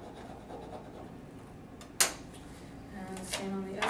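A folded book cover is burnished by hand during a repair, with soft scraping and rubbing strokes, a sharp close tap partway through, then brisk friction sounds, heard up close and fairly quiet.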